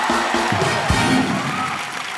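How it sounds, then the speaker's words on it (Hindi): A studio audience on a Hindi comedy show claps and cheers in a dense, steady wash of applause and crowd noise that holds for about two seconds. "ठोको ताली।"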